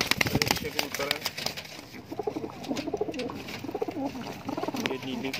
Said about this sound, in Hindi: ये नीली कबूतरी है माशाल्लाह